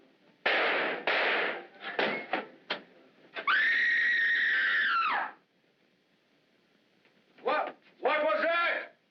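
A person lets out a loud, sustained high-pitched scream lasting nearly two seconds in a 1945 film, The Great Flamarion, with agitated speech before it and after a brief silence.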